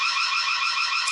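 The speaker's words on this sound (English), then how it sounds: "So that's the alarm going off." An alarm going off in a garage, a steady, shrill electronic tone holding unbroken and fairly loud for the whole moment, with no talk over it.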